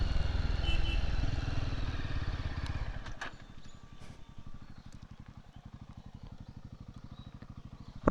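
A Yezdi motorcycle engine on a forest road rumbles loudly at first, then settles into a steady, close idle with evenly spaced thumping beats.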